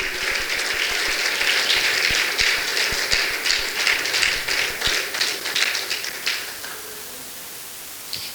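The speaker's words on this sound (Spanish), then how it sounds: "Dele un aplauso al Rey bendito por los siglos de los siglos" A church congregation applauds during a sermon, steady hiss-like clapping from many hands filling the room for several seconds, then fading toward the end.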